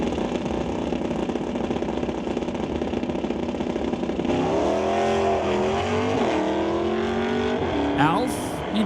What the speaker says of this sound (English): single for Alf out of Chilliwack, that 1970 Buick that usually sees some action in Stock Eliminator with the NHRA Lucas Oil Drag Racing Series